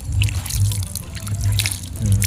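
Water drips and trickles steadily while a bonsai is watered after being lifted from the ground, a close, continuous patter with a low background hum and no talk.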